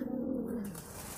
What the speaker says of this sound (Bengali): এটা অনেক সুন্দর একটা কবুতর খুব শৌখিন একটা কবুতর